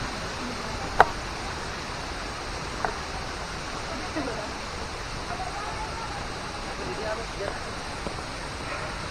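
The Curug Madi waterfall pours with a strong flow, making a loud, steady broadband roar that fills the whole clip, with a few faint clicks over it.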